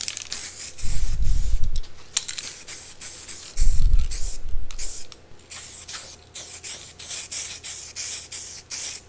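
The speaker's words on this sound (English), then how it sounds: "let's throw some weld through primer on this before welding it on" An aerosol can sprays weld-through primer onto metal before welding, a close hissing rush in short bursts with a rattling can and light handling noise between sprays.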